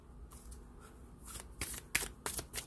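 Cards shuffled during a tarot-style card reading: a few soft riffles, then louder close flutters and snaps in short bursts near the end, no talking.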